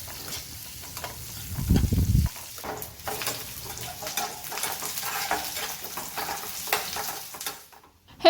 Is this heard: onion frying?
yes